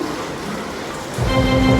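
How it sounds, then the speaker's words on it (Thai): Rain falling steadily outdoors on a rainy day in Chiang Mai, a continuous even hiss that grows slightly louder and fuller partway through, with a faint low hum underneath. "ฝนตกๆด้วยนะค่ะ"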